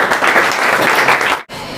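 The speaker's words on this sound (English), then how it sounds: "So again, clap everyone for her." Students in a classroom clap for a classmate, a close, busy patter of many hands that breaks off abruptly near the end, then resumes more faintly.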